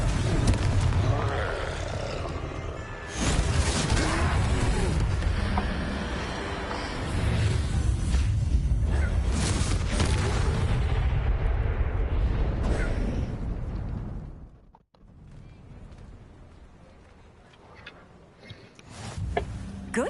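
The Confringo blasting curse explodes during a troll fight in Hogwarts Legacy, a long, loud roaring blast with rumbling debris that holds for several seconds, then cuts off abruptly, followed by quieter scattered sounds.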